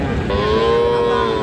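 A single drawn-out moo rises from cattle at the Raniganj livestock market, where Friesian and crossbred bull calves are traded, loud and close over a busy background murmur.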